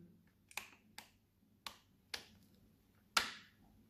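A series of sharp, dry clicks from a cordless drill's chuck being hand-tightened, six in all at uneven intervals, the last one loudest, with quiet between them.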